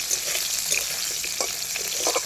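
Potatoes for a fish curry frying in a pan, a steady close sizzle with crackling pops and faint stirring scrapes throughout, with no talking.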